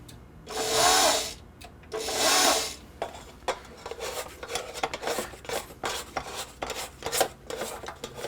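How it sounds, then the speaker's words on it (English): A bowl scraper drags along the sides of a bowl of white bread dough, first in two long loud rasping strokes, then in a run of shorter, quicker scrapes, close up with no talking. "I'm just going to scrape down the side of the bowl to get the stuff that's stuck to the sides"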